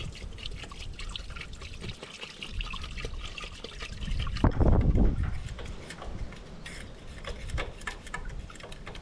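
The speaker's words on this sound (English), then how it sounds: "We'll shut it off now and drain the rest of the oil." Engine oil drains steadily from a vintage John Deere tractor with the motor shut off, a continuous close trickle and patter that swells into a heavier gush midway before settling back to a thin stream.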